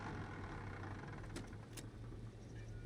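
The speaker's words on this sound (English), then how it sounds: "I love the gear sound and the engine sound and everything." Car engine in the video game Mafia, a quiet, steady idling hum with a low rumbling drone that holds evenly throughout, faint and alone with no talk.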